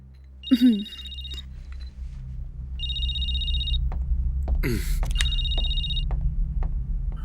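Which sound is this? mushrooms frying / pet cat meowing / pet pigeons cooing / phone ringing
phone ringing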